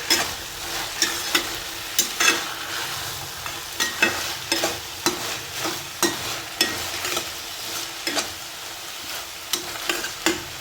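Chopped green chillies and beans sizzle in a pan over high heat, with a spoon stirring and scraping in regular strokes roughly every second, close and clear with no talking.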